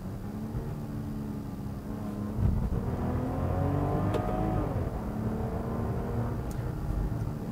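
Straight-six mild-hybrid engine of a 2020 Range Rover Sport MHEV luxury SUV accelerating, a steady smooth drone with rising harmonic tones heard from inside, moderately loud and continuous with no talking.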